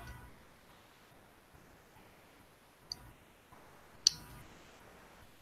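Two sharp computer mouse clicks, isolated and close, with faint small ticks between them over a quiet background.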